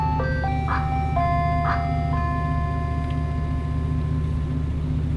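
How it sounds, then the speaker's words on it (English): An ice cream truck's chiming jingle plays a bright stepped melody over a steady low engine rumble, close and continuous, with no voices. "The ice cream man came by."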